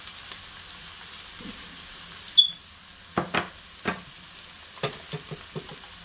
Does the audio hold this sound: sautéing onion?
yes